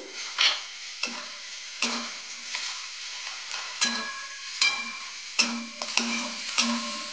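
Chili powder and turmeric sauté in a pan for sukhat chutney with a steady low sizzle. Soft clicks and scrapes of stirring repeat every second or so.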